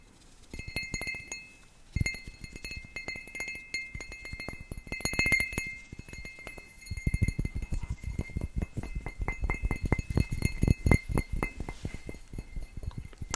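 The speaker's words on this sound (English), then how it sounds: "It is you hitting your empty glass with your fingertips." Fingertips tap and flick an empty glass at close range, giving rapid bright clinks and ringing pings in uneven bursts that grow denser and louder toward the end, with no talk.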